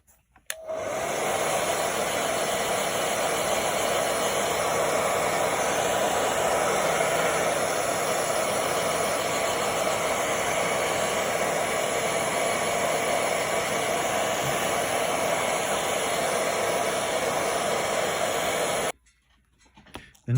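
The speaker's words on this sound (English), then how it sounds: "And then that will need a blast with a hairdryer." Hairdryer blowing steadily over a foam stone wall model, a loud, close, unbroken whooshing drone that switches on abruptly and runs for nearly twenty seconds before cutting off.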